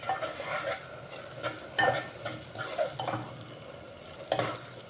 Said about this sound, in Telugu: దీన్ని ఒక్కసారి కలుపుకుందామండి.